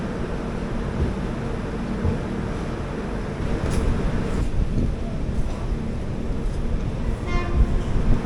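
Train 06035 Summer Special pulling out of Kadayanallur station, a steady low rumble of wheels and carriages rolling, heard from on board, loud and continuous with faint squeals above.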